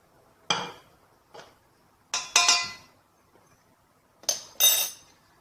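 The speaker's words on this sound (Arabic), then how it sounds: "وغادي نخلطو مزيان" A spoon clinks and scrapes against a bowl while butter, salt and olive oil are mixed into barley with warm water, in three short bursts of paired clinks, close and fairly loud with quiet gaps between and no talking.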